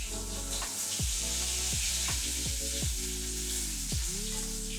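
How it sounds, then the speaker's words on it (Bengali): Pointed gourds fry in hot mustard oil with a steady, bright sizzle that runs throughout, while background music with gliding tones plays over it. "এবার আমি পটলগুলোকে ছেড়ে দেবো তেলের মধ্যে।"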